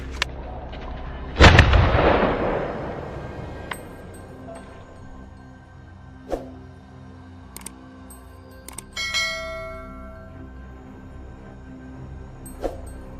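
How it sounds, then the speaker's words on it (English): A single loud, booming gunshot goes off during a boar hunt in a forest, then its echo rolls away, followed by a few faint knocks and rustles in quiet surroundings. "A final booming shot echoed through the forest"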